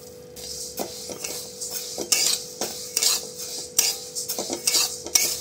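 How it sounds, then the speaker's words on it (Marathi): Moong dal being dry-roasted in a pan, a spoon scraping and clinking against the metal in repeated stirring strokes over a faint rattle of lentils, close up with no speech. "आता आपण ही मुगाची डाळ भाजून घेऊ"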